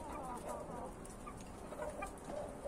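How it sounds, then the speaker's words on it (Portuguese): A hen, mother of the chick being shown, clucks softly in a backyard flock, her low murmuring calls repeating through a busy, noisy background. "Mãe dela é essa galinha."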